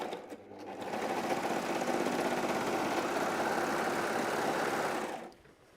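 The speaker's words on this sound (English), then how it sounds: "now we're starting to sew." A sewing machine stitches fabric for personalized Christmas pajamas, running in one steady, fast whirring burst of about four seconds before stopping, close and clear with no voices.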